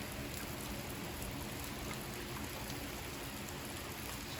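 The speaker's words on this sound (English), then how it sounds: "It's just raining away." Steady rain falling outdoors on a homestead, a faint, even hiss of drops that holds constant throughout with no voices.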